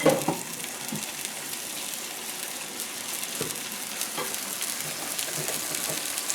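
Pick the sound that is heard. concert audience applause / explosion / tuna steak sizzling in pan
tuna steak sizzling in pan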